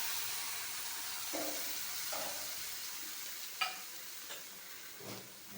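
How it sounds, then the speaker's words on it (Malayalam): Tamarind water simmering in an onion curry, with a steady broad sizzling hiss throughout and a few soft stirring knocks and clinks, close and continuous. "നമുക്ക് നേരത്തെ പിഴിഞ്ഞ് വെച്ചേക്കുന്ന പുളിവെള്ളം ഒഴിച്ചു കൊടുക്കാം"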